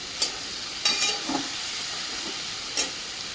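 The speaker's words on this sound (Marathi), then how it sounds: "या पद्धतीने सर्व फ्राय करून घेणार आहोत" Stuffed okra (bhendi) fries in a pan with a steady, hissing sizzle. A few sharp scrapes or stirring knocks break through it at intervals.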